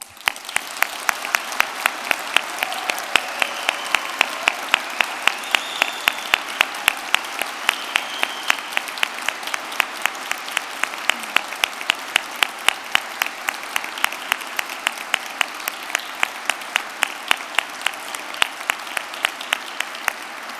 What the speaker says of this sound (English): just to see just how good and how thunderous your applause is